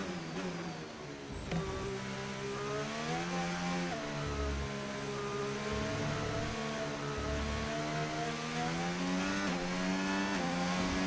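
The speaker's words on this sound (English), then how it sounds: "just as you press the throttle, there's quite a realistic sound" A Formula 1 car engine in the video game F1 25 on throttle, revving up and shifting through gears in a steady synthetic whine, loud and continuous with no talk.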